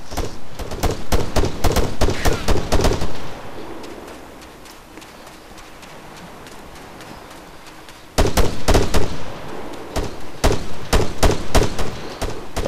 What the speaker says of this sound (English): I think we're taking fire from bearing 200.